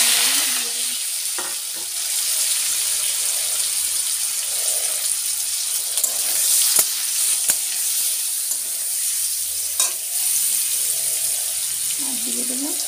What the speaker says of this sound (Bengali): সর্ষেটা একটু ভাজা ভাজা হলে তারপরে সেদ্ধ করে রাখা আমড়াগুলো দিয়ে দেবো।